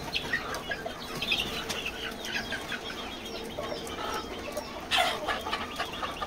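Desi chicks move about inside a coop, with soft clucking, peeping and occasional wing flutters over a steady rustling background, and one louder flurry near the end.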